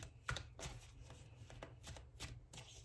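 Tarot cards being shuffled by hand for a reading, a quiet series of soft riffling and slapping bursts in a calm room, with no one speaking.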